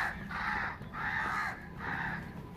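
A crowd of crows caws near a cow shelter, three long loud harsh calls in a slow repeating rhythm, close by and with no talk over them.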